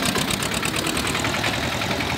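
A 1982 Escort 335 tractor's diesel engine running steadily, a loud close chugging rumble with a fast even knocking rhythm, heard alone without talk.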